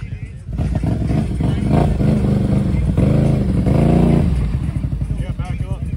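An off-road vehicle at Carter Off-Road Park climbs up a rut, its engine revving and labouring loudly at close range, with voices talking over it.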